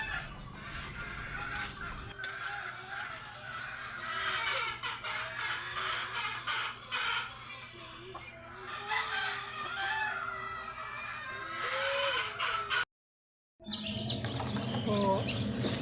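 Pet chickens, hens and roosters kept together, cluck and chatter steadily throughout, with occasional crowing, some birds close by, and a brief gap of silence near the end.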